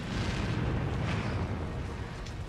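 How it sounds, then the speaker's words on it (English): Model building in a science-fiction TV episode goes up in flames and explodes, giving a loud, steady roaring rumble of fire and blast that holds at full strength for the whole stretch without pause. "There's some lovely model work of the building going up in flames and exploding"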